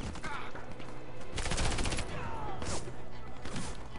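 Automatic fire from the M99AS submachine gun in the Warface shooter game, a sustained rattling burst across the clip with a denser stretch in the middle, game sounds loud and steady.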